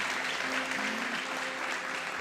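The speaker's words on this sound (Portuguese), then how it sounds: "Aplauda o Senhor por isso." Congregation applauding in a church in São Gonçalo, a steady wash of clapping that fills the whole moment with even density, a faint sustained tone running beneath it partway through.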